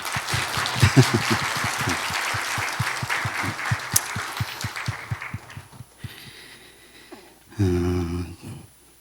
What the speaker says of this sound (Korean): 서로에게 잘했다고 박수 한번 하겠습니다